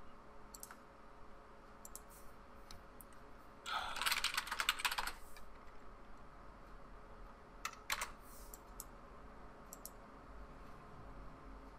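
Bursts of computer keyboard typing and clicking sound faintly during an online card game session, with a denser flurry of keystrokes in the middle and scattered clicks afterward against low background hiss.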